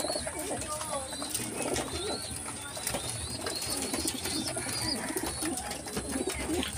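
Racing pigeons cooing steadily inside a crowded loft, a dense chorus of soft throaty coos with occasional wing flutters, while someone talks over the birds.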